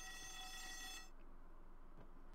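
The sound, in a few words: alarm siren in Garry's Mod WWI military roleplay video game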